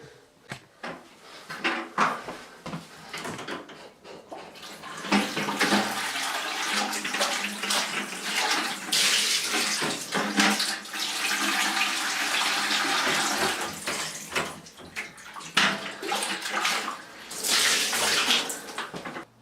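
Water runs steadily into a sink while parts of a Vax 121 carpet washer are rinsed out, a loud continuous gush with some clatter of handled parts, and no talk.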